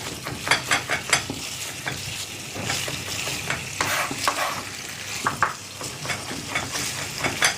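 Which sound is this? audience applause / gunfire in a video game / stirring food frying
stirring food frying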